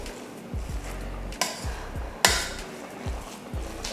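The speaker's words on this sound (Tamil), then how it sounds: "நம்ம கரண்டி வச்சு இந்த மாதிரி கலந்து விட்டோம்னா நல்லா குலைவாயிரும்." Ladle stirring and mashing hot cooked rice for sambar rice in a pot, with soft repeated scraping strokes and two sharp knocks of metal against the vessel.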